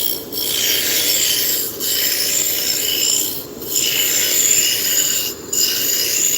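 Paste wax is rubbed by hand onto a wooden spindle in a steady scratchy rasp. Short pauses break the strokes into about four long passes, and it is close and alone.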